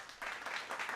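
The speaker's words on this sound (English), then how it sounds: "Clapping." Brief burst of applause, many hands clapping in a quick, dense patter that starts abruptly and holds for under a second, fairly faint with no voices.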